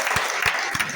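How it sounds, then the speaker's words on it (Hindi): An audience claps for a wellness brand at a business seminar in Dombivli, a brief burst of applause with a few louder, distinct claps standing out. "इस ब्रांड के एक बार दिल से जोरदार तालियां दीजिए"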